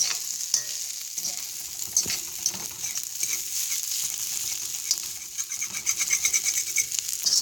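Food frying in a pan is stirred with steady scraping and a constant crackling sizzle, close up and fairly loud, with no voices over it.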